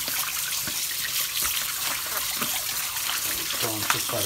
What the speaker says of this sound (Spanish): Voy a lavar.